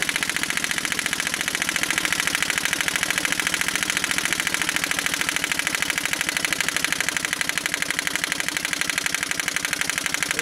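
A 1940 Evinrude Handitwin 3 HP outboard motor, run in as-found condition, idles alone with a steady, rapid put-put firing rhythm, fairly loud and close, holding an even pace throughout.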